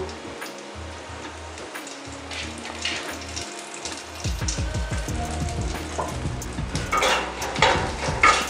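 Chicken curry sizzles in a pan with a little mustard oil and kasuri methi while a spoon stirs and taps against the metal, the frying crackle growing louder and busier partway through.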